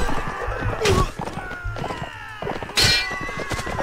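A horse whinnies and its hooves clip-clop on the ground in the Mount & Blade Gekokujo game, with sharp combat thwacks and a second loud whinny cutting through the busy battle noise.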